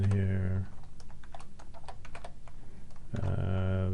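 A burst of quick, light keystrokes types a file name on a computer keyboard, irregular clicks close to the mic, framed by someone talking just before and after.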